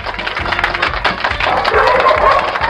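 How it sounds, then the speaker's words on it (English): Crowd of cartoon dogs clapping in a video game, a steady dense patter of applause that swells slightly louder toward the end, with game sounds mixed in. "There's dogs clapping!"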